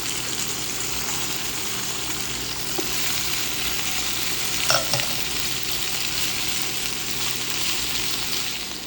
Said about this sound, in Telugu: గార్లిక్ ఫ్రై అయిన వెంటనే ఈ డ్రైన్ చేసుకున్న అరటికాయ తీసేసి వేసేయండి.